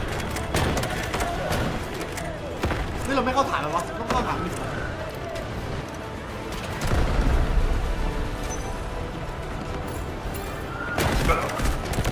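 Gunfire in the video game Garena Delta Force, scattered bursts and volleys rising and falling in intensity, with excited talk over and between the shots.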